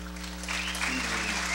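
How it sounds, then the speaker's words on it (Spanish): Crowd applause at a beauty pageant in Azogues fills the scene, a steady wash of clapping that swells slightly toward the end, with faint voices mixed underneath. "pido un aplauso para él"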